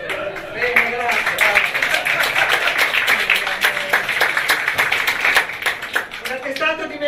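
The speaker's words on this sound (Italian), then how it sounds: "Quando le accettiamo fate un applauso." Scattered clapping builds into steady applause from a room full of people at an arts award ceremony, with voices talking over it throughout.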